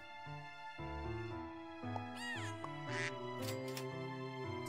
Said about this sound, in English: How does one find this many ducks?